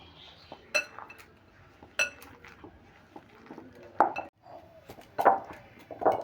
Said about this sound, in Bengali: এবার সমস্ত উপকরণগুলো আমি ভালো করে মাখিয়ে নেবো